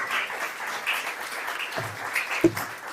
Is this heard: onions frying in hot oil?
no